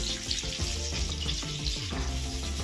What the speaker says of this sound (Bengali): এরপর আমি এই তেলের মধ্যে কেটে রাখা বেগুনের টুকরোগুলো